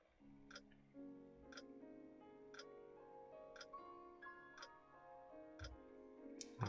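A clock ticks in an RPG Maker game, with steady, evenly spaced ticks about once a second over soft piano music.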